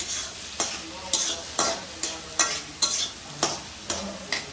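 A spoon stirring cucumber and tomato curry with chili powder in a pan, about ten regular scraping strokes over a soft sizzle, close and clear, no voices.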